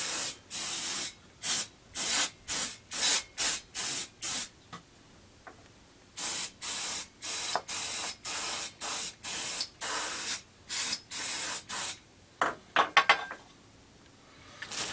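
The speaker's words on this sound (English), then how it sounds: "I'm going to give them a spray with the brake cleaner just to take any grease off." Brake cleaner sprays from an aerosol can onto mechanical parts to strip grease before a new oil seal goes on, a long series of loud, close hissing bursts of varying length with short gaps, ending in a few clicks and rattles.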